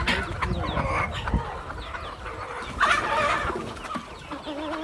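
A Sonali breed hen of about two kilograms clucks and calls repeatedly at close range, with other fowl sounds around it in a rural yard.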